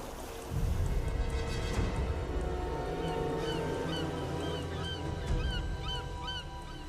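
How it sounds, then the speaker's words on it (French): Seagulls call repeatedly over a continuous low rumble of water and wind, their short cries rising and falling at moderate distance across the scene with no talk. "Il y a des mouettes."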